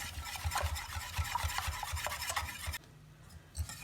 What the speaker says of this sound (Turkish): ocağa koymadan önce hepsini güzelce topaklaşmaması için güzelce karıştırıyoruz